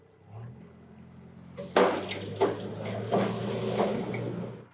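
A Mayco C30HDGA concrete pump pushes water through during wash-out, a low mechanical hum that jumps into sloshing, gurgling surges of water with several sharp strokes, fairly close and steady.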